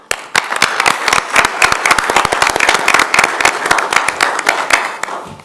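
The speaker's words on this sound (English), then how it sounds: "Would you please stand so we can give you a round of applause?" A round of applause at a Tooele City Council business meeting: loud, dense clapping from a room of attendees, sustained for about five seconds before tapering off at the end.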